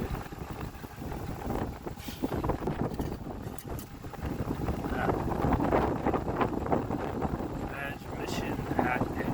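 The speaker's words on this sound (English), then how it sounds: "Now it's too windy" Wind gusts outdoors and buffets the microphone as a steady, rough rumble with fluctuating strength throughout, with possible faint voices underneath.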